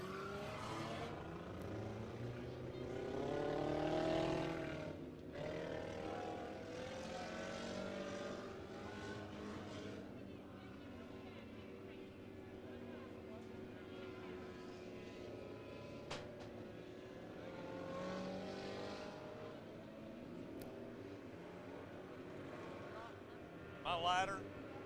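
Front-wheel-drive race cars roar around Crawford County Speedway during a 15-lap feature, their engines a continuous distant drone. An announcer talks over the noise almost the whole time.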